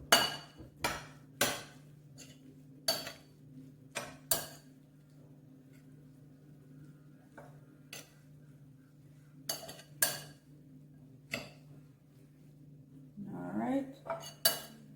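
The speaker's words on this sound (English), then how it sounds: "Now we're gonna stir this up." Okra cook-up rice is stirred in a pot with a metal spoon, making sharp scattered clanks and scrapes against the pot at an uneven rhythm over a steady low kitchen hum, with one brief spoken remark.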